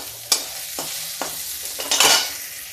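Chopped onions frying in a pan on a home stove, a steady sizzle broken by several sharp scraping strokes of a spoon stirring, with a louder burst of hissing near the end; no voices.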